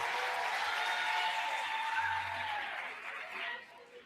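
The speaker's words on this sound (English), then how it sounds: "give him a nice round of applause there." Workshop audience at a Grade 11 maths class gives a round of applause, a broad steady wash of clapping that fills most of the clip before thinning out toward the end.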